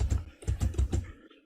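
Quick typing on a computer keyboard, a short run of five or six close, soft clicks over about a second, alone with no talk.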